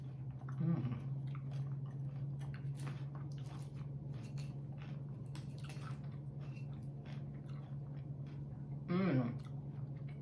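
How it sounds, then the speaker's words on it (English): Someone chews a bite of salad with soft, moist crunching close to the mic, with brief murmured sounds near the start and end, over a steady low hum. "let's taste this salad."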